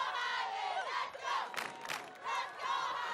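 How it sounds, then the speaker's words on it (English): A high school football crowd at Central vs Highland cheers and roars in a sustained swell, loud and close, with surges of shouting rising and falling across the stands and no clear speech. "And this crowd absolutely loves it."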